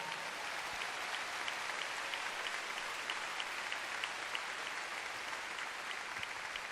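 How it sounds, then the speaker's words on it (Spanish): Congregation applause during a church sermon, a faint, even wash of many hands clapping heard from a distance, sustained without pause and with no speech over it. "ese aplauso no creo que sea suficiente"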